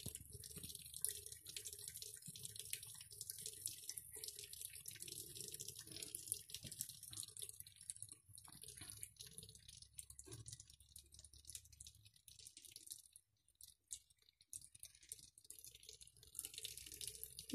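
Water runs steadily from a tap in a long unbroken hiss, with faint drips and light rattling mixed in.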